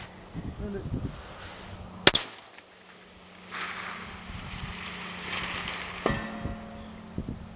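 A suppressed large-bore precision rifle fires a single sharp crack, followed by a fainter distant report; quiet outdoor wind and brief speech surround the shot.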